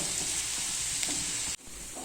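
Sliced onions sauté in a pan with a continuous, even sizzle up close, briefly dropping out near the end before resuming, no voices present.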